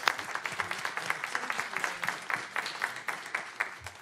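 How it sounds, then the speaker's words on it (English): Steady applause from an audience at a city council meeting, a dense run of hand claps kept at a moderate distance and heard alone without talk. "Give him a round of applause"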